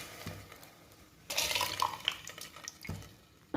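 Rice, lentils, cumin, salt and turmeric being stirred together in a pot, a soft scraping and wet shuffling that swells in the middle and fades, close by with no talking.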